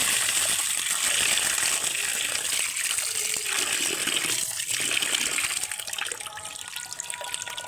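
Split peas are swished and rinsed by hand in a bowl of water, giving a continuous close, gushing slosh that eases slightly toward the end.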